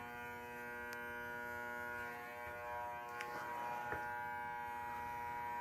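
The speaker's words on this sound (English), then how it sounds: "That's a very loud light." An electric light gives off a steady buzzing hum with sharp tonal lines, constant and unchanging at moderate level, with faint background noise from a setting in Japan.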